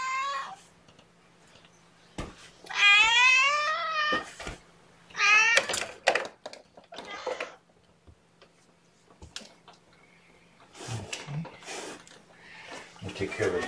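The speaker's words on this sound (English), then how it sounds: "Hello, kittens. Hello, Mama" Kittens and their mother cat give several distinct meows, some long and wavering, others short, in bursts separated by quiet gaps. A person talks between the cries, and faint ticking runs in the background.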